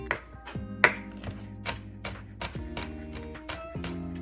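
A knife chops garlic on a cutting board in rapid, evenly spaced taps close by, against a background of steady hum and faint tonal music.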